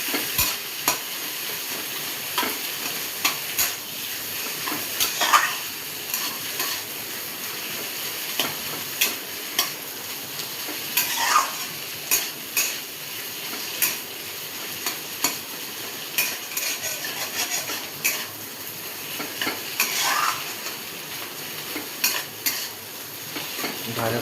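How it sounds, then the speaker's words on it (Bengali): Potato being stirred in hot oil with onion, ginger and garlic, a spoon scraping and clattering against the pan in irregular strokes over a steady close sizzle, with no talking. "একবার এগুলোকেও ওই তেল পেঁয়াজ আদার সঙ্গে নেড়ে নাড়তে হবে"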